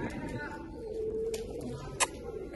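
A female pigeon coos softly, a low warbling call close by, with faint background voices and a brief sharp tap near the end.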